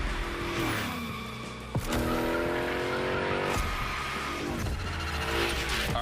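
Engine revs and tire squeal from a car sliding through gymkhana drifts in The Crew Motorfest racing game, loud and continuous with pitch sweeping up and down as it slides, plus a brief thump near the middle.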